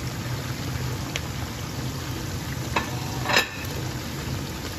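Potato and onion tortilla mixture being stirred in a frying pan, a steady sizzle with a few light scrapes and clicks of the utensil against the pan.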